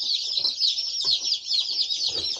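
A dense, continuous chorus of high peeping from a box of hatchery chicks, Cackle Hatchery birds including a white cochin, heard close and steady with no pauses and no talk.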